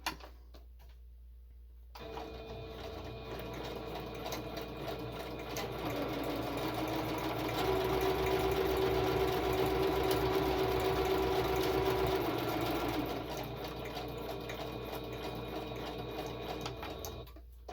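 A sewing machine stitches through a mixed media journal card, starting after a brief silence, then running as a steady close mechanical whir with rapid needle ticks, which swells in the middle before easing off.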